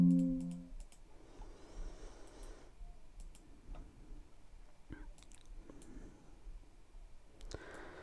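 Computer mouse clicks while working in Excel Power Query, a few sharp, quiet ticks scattered over a hushed room background.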